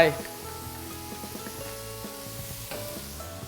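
Oyster sauce poured into a hot frying pan for a Chinese-style exploding-egg dish with bacon, sizzling steadily under a bright, dense hiss with clinks of stirring, close and fairly loud throughout.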